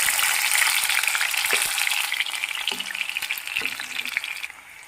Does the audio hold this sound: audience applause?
no